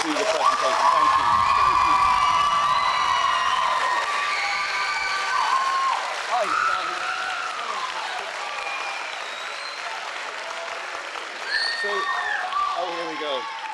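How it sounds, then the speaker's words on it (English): A school band and choir audience at an invitational event bursts into loud applause and cheering, clapping and shouts filling the room, then slowly thinning out while a voice speaks over it. "Give me one more cheer, then we'll do the presentation."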